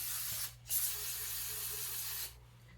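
Carb cleaner is sprayed onto a dirty motorcycle carburetor, a 1970 Kawasaki Bushmaster, in one long close hissing blast with a brief break near the start. A faint low hum runs underneath.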